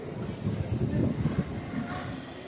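A train at Maganur railway station, its wheels letting out a high, sustained squeal over a low rumbling roll, close by and fairly loud.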